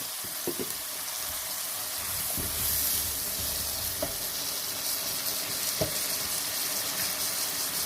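Vegetables for a vegetable korma fry in a pan with a steady, close sizzle, broken by a few light spoon taps and stirring knocks.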